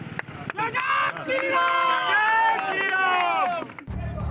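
Angry protest crowd at a political rally in a town square, many voices shouting and chanting together in a loud, sustained roar that drops off abruptly near the end.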